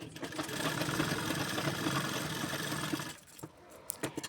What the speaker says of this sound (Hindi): अब इसमें मैं पक्की सिलाई के लिए एक और सिलाई लगा रही हूँ।